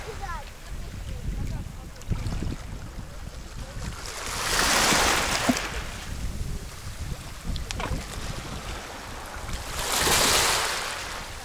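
Waves wash in twice onto a pebble beach in Sochi, each surge a broad hiss of water over stones, with wind buffeting the microphone and a steady outdoor rumble between them.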